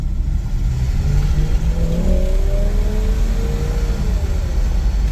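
A 1960 Pontiac Catalina with a 389 four-barrel V8 pulling steadily while driving, a loud continuous engine drone with a slowly rising pitch as it accelerates through the gears.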